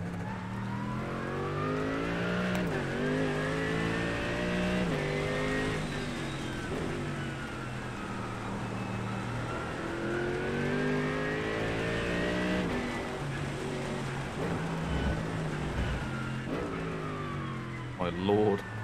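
Race car engine in the iRacing sim on a wet Portimao track, revving up and down in repeated sweeps through gear changes, loud and continuous under someone talking.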